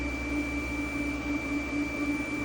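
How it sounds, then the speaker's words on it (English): A TIG welder's cooler pump or fan gives off a steady, annoyingly high-pitched whine. It holds one constant tone over a continuous mechanical hum, with no break and no talking. "that TIG cooler is like high pitched, annoyingly so"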